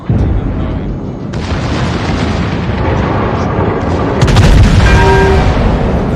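Naval guns boom in the World of Warships battleship game: dense, loud rumbling blasts and crashes layered over a constant roar, with a sharp burst of heavier fire near the end.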